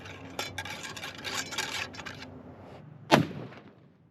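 A single sharp gunshot from a primitive-style rifle rings out at a long-range target, preceded by quiet rubbing and shuffling handling noise, then a brief fading echo.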